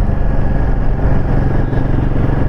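A Royal Enfield Himalayan 450 motorcycle engine drones steadily and loudly close by as the bike is ridden, its rumble continuous and unbroken.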